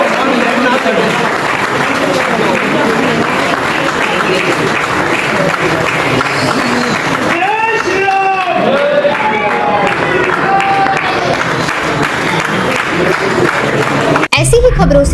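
A large crowd claps at a religious festival, a thick wash of applause under loud speech and chanting voices, ending in a sharp knock and a brief surge.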